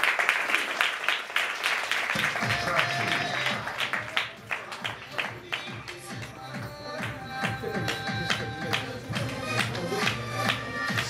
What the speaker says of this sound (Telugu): అందరూ కూడా గట్టిగా చప్పట్లు కొట్టాలి.